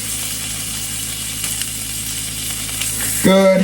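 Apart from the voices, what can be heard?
steak sides searing in a pan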